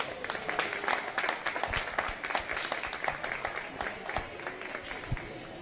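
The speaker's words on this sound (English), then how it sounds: "So let's give them a round of applause." An audience at a county junior livestock show event gives a round of applause for the school board administration, a steady moderate patter of many hands clapping, fairly distant, with no one speaking over it.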